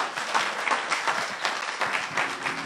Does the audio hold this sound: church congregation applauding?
yes